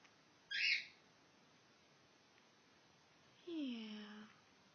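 A pet bird gives a brief, sharp call, then a longer sliding call a few seconds later in a quiet room, with a soft voice nearby.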